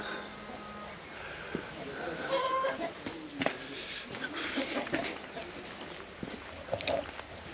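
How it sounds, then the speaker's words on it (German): A turkey gobbles and grumbles on a small village farm in rural Georgia, a moderately distant, intermittent burbling call amid outdoor farmyard noise with chickens and other animals nearby. "Der Truthahn, der meckert ein bisschen rum."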